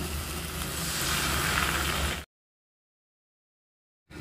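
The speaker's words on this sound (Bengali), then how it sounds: "এবার আমি দিয়ে দেবো এতে পরিমাণ মতো জল" Water poured into a hot pan of spiced elephant foot yam and prawns gives a loud, steady sizzling hiss for about two seconds before cutting to silence, then briefly resumes.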